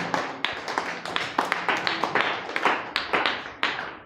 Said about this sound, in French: Acclamez très fort pour notre jeune talent.